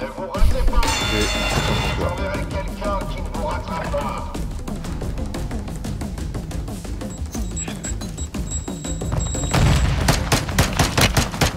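Gunfire in Warzone 2 rattles in bursts and single shots under frequent excited talk from players, with a heavier cluster of shots near the end.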